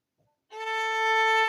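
A single sustained bowed violin open-string note starts abruptly after a brief quiet moment and holds steady, rich in overtones, close and fairly loud.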